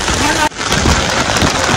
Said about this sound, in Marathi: भरपूर जोरात पाऊस आलाय.